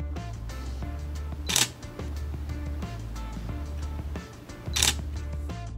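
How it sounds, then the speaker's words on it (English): Two sharp DSLR camera shutter clicks, a few seconds apart, stand out over a steady musical background. "To trigger a shutter click on the camera"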